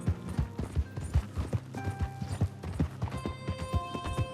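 A horse gallops in Red Dead Redemption 2, with quick rhythmic hoofbeats thudding close under a faint creak of tack and a brief whinny, and no voices.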